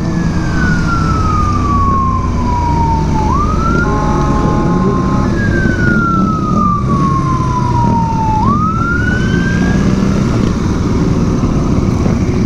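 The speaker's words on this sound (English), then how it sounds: "Opa, uključila se i policija." Wailing emergency siren out on the street during protests, loud and close, sweeping down in pitch twice in long falling cycles over steady traffic rumble.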